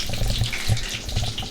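Water gushing and splashing out of a flopped-over bag of fish water, a loud, continuous wet pour lasting a moment with no voices.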